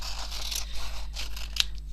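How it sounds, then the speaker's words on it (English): Scissors snipping a rough first cut through material on an MDF heart mixed-media craft piece, a few close, crisp cutting sounds spread across two seconds, alone with no talk. "pair of scissors to hand. Do a rough chop first"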